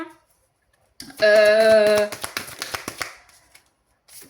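Tarot-style cards are riffled and flipped during a card reading, a close burst of rapid flutter followed by quick individual card snaps and taps, with someone speaking briefly around it.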